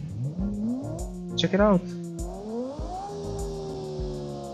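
A twin-turbo 7-litre V10 engine in a BeamNG.drive car, revving up in rising steps with a laggy turbo build, engine tone climbing and falling between gear changes while someone talks over it.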